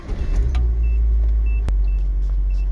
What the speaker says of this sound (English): All right guys, let's start her up.